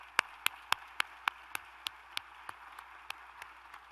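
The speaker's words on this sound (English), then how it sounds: "Another hand of applause, please." Slow, sparse claps at a transit agency press briefing, about a dozen distinct hand claps, fairly near and quiet, thinning out over a few seconds with no talk.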